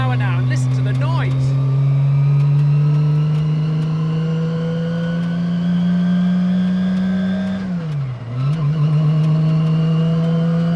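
A classic car cruising at about 25 to 30 miles an hour, its engine a steady loud drone throughout, briefly dipping in pitch near the end as the revs drop before picking back up.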